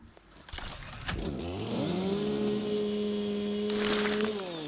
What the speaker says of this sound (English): Can I just chainsaw it?